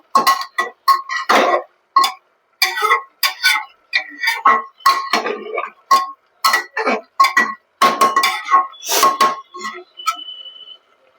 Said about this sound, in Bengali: এবার ভালো করে সবগুলোকে কষানো হচ্ছে